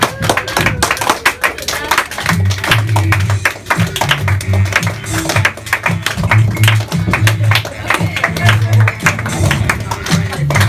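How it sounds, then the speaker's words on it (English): An audience clapping together, the claps sharp and fairly rapid rather than slow, a steady crowd rhythm under scattered voices and murmuring throughout. "Just get a slow clap going."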